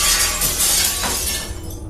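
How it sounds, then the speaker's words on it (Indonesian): A mirror shatters in a single loud, bright crash of breaking glass that fills the moment and then scatters into tinkling fragments as it fades, with no voices. "Suara cermin pecah"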